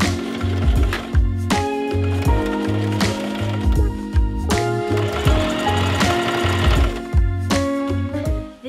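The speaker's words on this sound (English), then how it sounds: "I'm gonna sew on my domestic so I can use the arm of my machine just to run around this edge with a top stitch" A domestic sewing machine runs steadily, top stitching around the edge of a patchwork coat with heavy-duty thread, its rapid rhythmic needle clatter continuous and close throughout.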